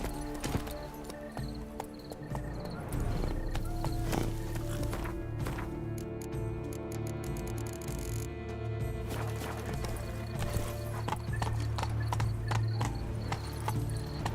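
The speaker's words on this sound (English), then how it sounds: "Be better off on horseback." Horse hooves clip-clop steadily throughout while riding in The Witcher 3: Blood and Wine, with a continuous ambient game soundscape and a brief whinny-like cue, no voices present.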